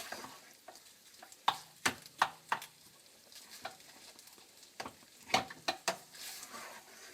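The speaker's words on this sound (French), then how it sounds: "on mélange bien afin de pouvoir intégrer délicatement l'oignon et l'ail" Onion and garlic are stirred in a pan for salmon rissoles, a spoon scraping and clacking in irregular sharp knocks over a faint sizzle, close and quiet.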